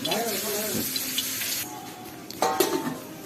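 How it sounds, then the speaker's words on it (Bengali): Onions fry in mustard oil in a kadai while salted hilsa curry is cooked, a soft sizzle under a brief voice at the start, followed by light clattering and a sharper burst of sizzling near the end. "সরিষার তেলে এখন পেঁয়াজ ভাজা হচ্ছে"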